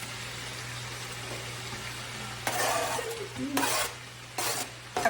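Celery and onions hit a hot pan with chicken, loud bursts of sizzling and stirring in the second half over a constant low hum, with a brief spoken word.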